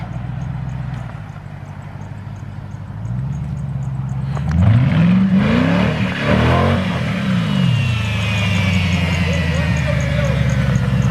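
A lightened, weight-reduced car's engine revs hard as the gas is pressed, a rising and falling roar through the middle, with people talking over it.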